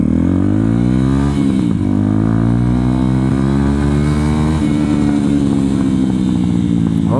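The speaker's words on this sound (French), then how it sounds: "ce bruit, mais terrible. Le petit silencieux Léovine sans carbone, il est vraiment pas mal." A motorcycle fitted with a small Leovince exhaust silencer revs hard and close, its engine pitch climbing and dropping in repeated loud surges that fill the whole stretch.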